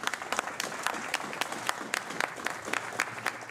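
Rhythmic outdoor applause from a crowd at a funeral in Mollégès, with distinct individual claps repeating steadily at moderate distance and a faint murmur of voices beneath.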